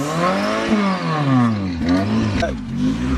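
Chevrolet Nova engine revving, its pitch rising and falling in repeated sweeps, loud and close, with a voice speaking over it.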